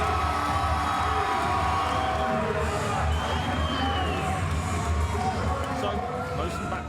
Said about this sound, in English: A huge roar from the crowd for the emotional El Minyawi.